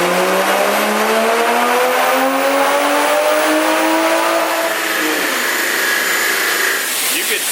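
An A90 Toyota Supra with an aftermarket downpipe and otherwise stock parts screams through a loud pull on a dyno, its engine note climbing steadily for several seconds before it lets off into a rougher, rumbling tail.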